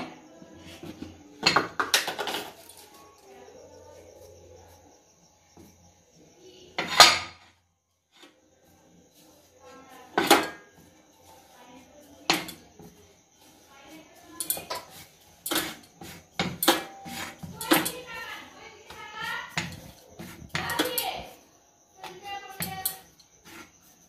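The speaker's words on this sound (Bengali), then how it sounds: "এবার আমি এগুলো বেলে নেব।" Tomato paratha dough is rolled out with a rolling pin on a board, heard as scattered soft thumps and clacks close by, irregular and sparse at first and then more frequent, with quiet gaps between.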